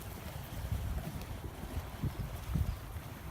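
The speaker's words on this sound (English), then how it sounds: "Why it's so windy?" Wind buffets an outdoor camera microphone during a balloon launch, a continuous low rumbling roar that swells and gusts for a few seconds with no voices.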